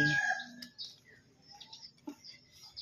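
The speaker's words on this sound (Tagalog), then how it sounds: "Yan, ang daming manok, guys. Manok!" A rooster crows at the start, followed by scattered clucks and chirps from several chickens nearby in a quiet outdoor setting by a river.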